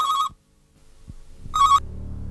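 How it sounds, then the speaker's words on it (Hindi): A telephone rings in an office, two short bursts of bright electronic ringing separated by a pause, loud and close with no talk over it. "फोन उठाओ।"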